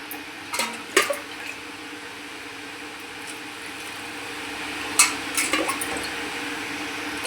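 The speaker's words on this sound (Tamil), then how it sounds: "இதுக்கு தேவையான தண்ணியை வந்து இப்போ ஊற்றிக்கலாம்." Water pours into a cooking pot to boil biryani rice, running as a steady close stream with a few splashy bursts near the start and again midway.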